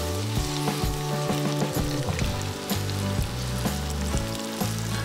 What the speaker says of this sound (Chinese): 鱼肉下锅炸